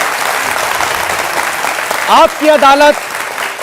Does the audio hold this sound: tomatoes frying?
no